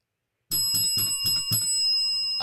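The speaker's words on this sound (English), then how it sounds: "Let me make sure my cussing bell working." A bicycle-style bell rung five times in quick, even succession, bright and close, each ring leaving a lingering metallic tone that fades after the last strike.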